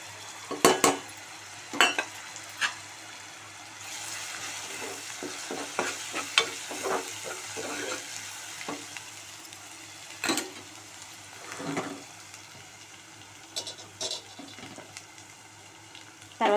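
Turmeric frying in oil while being stirred for a mutton and raw mango dish gives a soft, steady sizzle broken by repeated metallic scrapes and clinks of a spoon against the pan, close and without talk.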